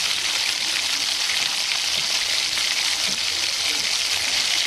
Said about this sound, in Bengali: কড়াইতে জিরে ফোড়ন দিয়ে থেতলানো রসুন দিয়ে হালকা নেড়ে চেড়ে নিয়ে তারপর এর মধ্যে দিতে হবে পেঁয়াজ কুচিটা।